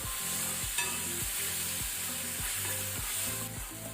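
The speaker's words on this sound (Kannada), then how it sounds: "ಅಲ್ಲಿ ತನಕ ನಾವು ಸ್ವಲ್ಪ ಫ್ರೈ ಮಾಡ್ಕೊಳ್ಳೋಣ" Radish and tomato fry in a pan with a continuous close sizzle, and a spatula scrapes and stirs in a regular rhythm about twice a second, with no talk.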